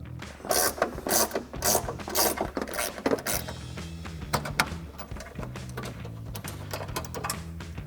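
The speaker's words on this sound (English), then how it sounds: "I'm going to take a 13 millimeter ratcheting wrench to remove that" A 13 mm ratcheting wrench clicks rapidly while loosening a bumper bolt on a 2019-2021 Chevrolet Silverado 1500, close and crisp in repeated bursts of ratchet strokes, later settling into steadier mechanical clicking.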